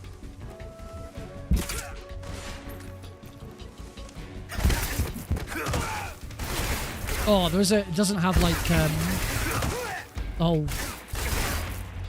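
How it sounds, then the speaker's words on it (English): Gunfire in the video game Metal Gear Solid Delta: heavy, sharp blasts and impacts burst out in the second half, mixed with game noise while someone talks over it. "oh, those gunshots are brutal. I love the sound effects."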